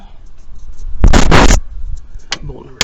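Flex-head ratchet on a bolt through the pulley of a junkyard 1996 Jeep V8, a short burst of ratcheting clicks and scraping lasting about half a second, then a brief second click, up close.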